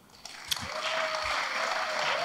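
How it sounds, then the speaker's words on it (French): Conference attendees applaud the speakers, the clapping swelling after a few scattered claps into a steady, moderately loud round from a seated crowd. "On peut vous applaudir."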